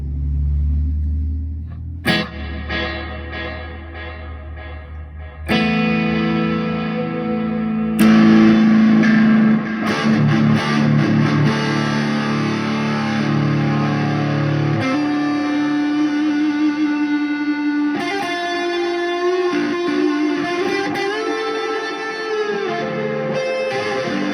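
An electric guitar played through a pedalboard rings out sustained chords and notes with an echo and delay effect, dense and loud, the repeats smearing each change into long reverberant tails with no talking.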